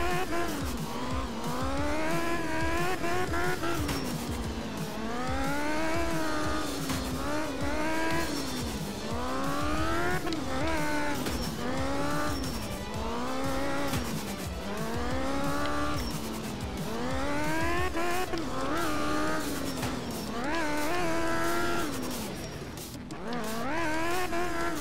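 Engine note of a rally car in the game art of rally on a dry Norway stage, growling and revving continuously with rising and falling pitch through gear changes, loud and steady throughout with no talk.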